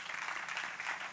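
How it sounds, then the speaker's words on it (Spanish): Church congregation applauding, a faint, dense wash of many hands clapping steadily without pause. "Denle un aplauso al Señor en esta hora."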